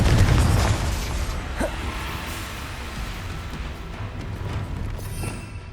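In Hogwarts Legacy a Confringo spell bursts with a heavy, loud boom at the start, then a rumbling tail fades into quieter game ambience.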